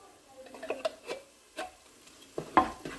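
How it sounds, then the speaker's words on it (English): A spoon scrapes food out of a metal can, making a few short, separate scrapes and clinks, close and fairly quiet, with pauses between strokes. "it fits inside a can too to scrape all the stuff out"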